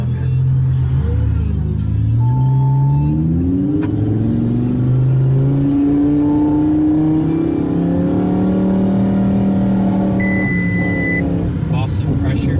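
Twin-turbo Audi R8 tuned to 1200 horsepower launching hard in first gear, its engine roaring loud and close as it climbs through rising revs for several seconds, with a transmission fault developing.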